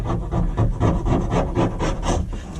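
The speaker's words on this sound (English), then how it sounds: "Got myself a little scraper out, and this will tidy it up proper good." A small hand scraper rasps in quick back-and-forth strokes over a fitting in a caravan bathroom, close and fairly loud, with a steady rhythm of about four strokes per second.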